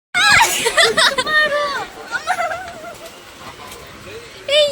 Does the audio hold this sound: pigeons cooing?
yes